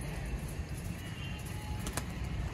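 Pigeons of a Sialkoti breed in a loft setting give off a steady low cooing murmur, close and continuous, with a brief sharper flutter or click near the end.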